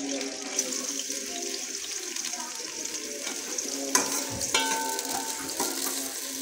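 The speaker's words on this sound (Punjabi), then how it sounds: "ਪਿਆਜ਼ ਅਸੀਂ ਐਡ ਕਰ ਦਿੱਤਾ ਘੀ ਦੇ ਅੰਦਰ, ਅਤੇ ਪਿਆਜ਼ ਨੂੰ ਕਰਾਂਗੇ ਜੀ ਸੋਤੇ" Onion frying in ghee for a masala chips salan, a dense close sizzle that hisses steadily, with a few stirring clinks and scrapes partway through.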